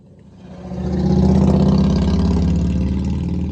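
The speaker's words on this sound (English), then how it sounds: "I'll wait for that motorcycle to pass." A motorcycle engine passes along a street, its steady droning growl swelling from quiet to loud and holding near, with no talk over it.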